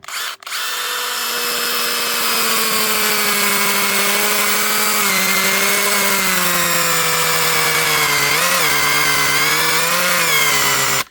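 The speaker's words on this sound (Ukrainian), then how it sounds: "потестуємо, чи пилка проріже, отако насквозь чи не проріже" A loud, continuous power saw bites into a pear tree trunk, holding a steady whining engine tone that dips briefly under load a few times, with no talk.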